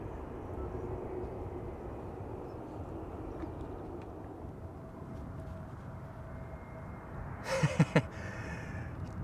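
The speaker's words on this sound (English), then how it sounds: "A320neo arriving from Malta." An Airbus A320neo airliner arriving from Malta on approach to the Polderbaan runway passes at a distance, a steady broad rumble and roar throughout with a brief louder burst of higher-pitched noise near the end.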